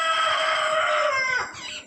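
A rooster crows loudly and close by in a rural Kerala setting. It gives one long, strained cock-a-doodle-doo that trails off into a shorter, rougher tail, with no other sound competing.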